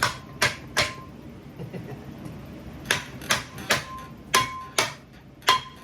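A dented brake backing plate on a garage project car struck by a hammer, about a dozen sharp metallic smacks in irregular bursts, close and loud over quiet background.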